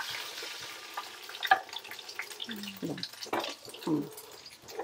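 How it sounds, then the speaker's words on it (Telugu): Palathalikalu being fried until golden red in a pan with jaggery and milk, giving a soft sizzle with stirring scrapes and a few clinks, close but fairly quiet. "వేయించుకోవాలి మంచిగా. ఎర్రగా వేయించుకుంటేనే బాగుంటుంది."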